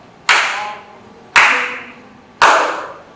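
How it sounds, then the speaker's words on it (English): Three separate hand claps, sharp and close, evenly spaced about a second apart, each ringing briefly before fading, with quiet between them. "How many claps did you hear?"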